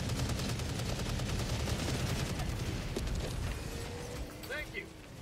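Rapid bursts of video game gunfire crackle steadily under an excited player's voice, with dense firing through most of the stretch before it thins toward the end.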